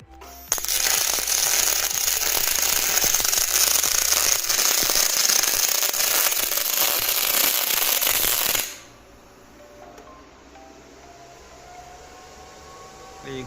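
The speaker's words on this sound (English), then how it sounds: "Welder will start automatically welding." A robotic welder on a modular welding station runs automatically, producing a loud, steady crackling hiss close up for about eight seconds before cutting off abruptly into quiet room tone.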